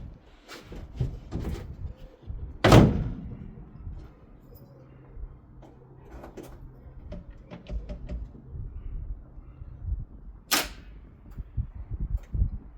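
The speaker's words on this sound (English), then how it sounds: "Got to open the door to get in." A classic Mini's door thumps and bangs, with one loud knock early on and another sharp clack later, among quieter rattles and shuffling nearby.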